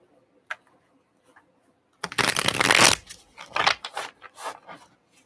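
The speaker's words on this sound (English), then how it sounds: "One more shuffle." A deck of tarot cards shuffled by hand, a dense, loud riffling burst up close followed by several shorter flicks and taps after a near-silent pause, with no speech.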